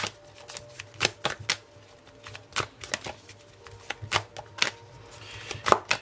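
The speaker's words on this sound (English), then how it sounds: "I'm going to draw 3 cards." Tarot cards being shuffled and drawn, a rapid series of sharp papery flicks and slaps in an irregular rhythm, close up and alone.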